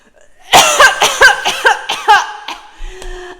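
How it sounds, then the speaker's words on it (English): A run of about eight harsh, closely spaced coughs, loud and near, tapering off at the end. "I needed to take a break to cough"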